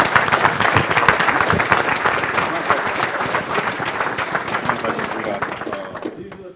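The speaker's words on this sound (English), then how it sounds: "Give a round of applause." A crowd claps steadily with dense, continuous applause and some cheering, holding at a fairly loud level before thinning out at the very end.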